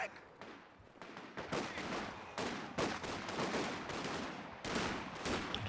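Infantry battle in the Company of Heroes 2 video game against Grenadiers, with dense bursts of rifle and machine-gun fire and crackling explosions layered in a continuous loud, chaotic barrage.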